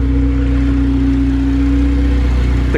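A stock Honda K20A2 engine, swapped into a Honda car, runs steadily just after starting, with a constant low drone and a clear harmonic hum that holds even with no revving.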